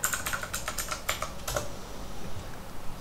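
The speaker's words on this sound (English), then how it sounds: "When we type a wrong password," Keys tapped on a computer keyboard while a password is entered on a Windows login screen, a quick run of sharp clicks that bunch together and then trail off, close and fairly quiet, with no voices.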